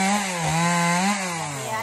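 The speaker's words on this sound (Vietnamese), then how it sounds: "sẽ leo lên cưa cây sao" A chainsaw cuts into a tall Sao tree, its engine whining loudly and steadily, dipping and rising in pitch as the chain bites the wood.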